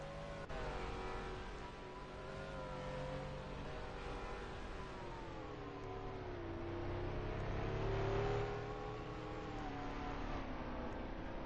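Race cars circle Circuit of the Americas during a Texas A&M University Grand Prix, a faint, steady engine drone with a slowly rising and falling pitch as cars pass at a distance.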